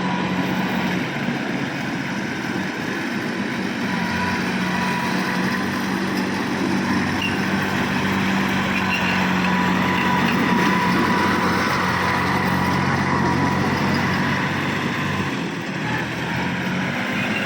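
A Kubota B2410 compact tractor engine runs steadily, a constant close mechanical drone at even loudness throughout, with no talking over it.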